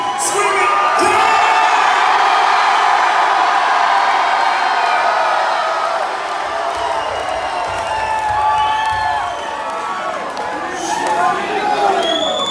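An audience at a live rap concert on the closing night of a tour screams and cheers loudly and continuously. Whoops and shouts rise out of a dense, sustained roar of crowd noise.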